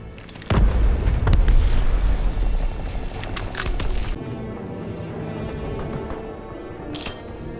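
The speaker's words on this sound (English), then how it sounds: "Throwing a grenade!" A grenade detonates in Call of Duty WW2, a loud, close blast with a heavy low rumble that rolls on for several seconds before falling away to quieter battlefield ambience.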